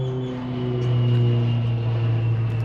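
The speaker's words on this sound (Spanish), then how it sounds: "Una avioneta." A steady propeller-engine drone with a low humming tone, swelling slightly in the middle as a small light plane passes over a dock on the Río Dulce, Guatemala, with no voices.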